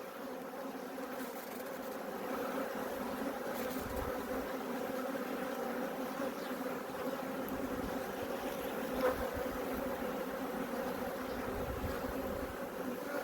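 A colony of honeybees buzzing inside an open hive, a low continuous droning hum at close range, steady and faint with no voices.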